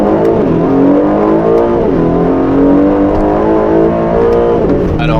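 An Aston Martin DB12 with a 680 hp engine pulls away from a standstill without launch control, its exhaust note climbing steadily through the revs, loud and close, with a brief dip as it shifts.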